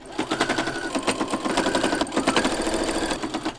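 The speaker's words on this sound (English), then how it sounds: "This is what it's looking like when I sew over the wrinkles." A sewing machine runs steadily, stitching over wrinkled button-up shirt fabric, its rapid rhythmic needle clatter loud and close with a brief hitch midway and no talking.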